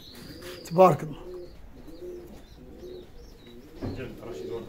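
Pigeons coo softly in a loft, with one louder coo and a few faint chirps. Someone speaks briefly over the quiet background.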